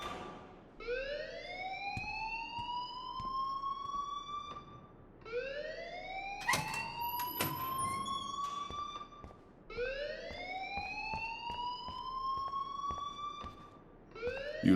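A rising electronic alarm in Life Is Strange wails in repeated sweeping cycles, each climbing in pitch and then cutting off before starting again, loud and steady over a faint background.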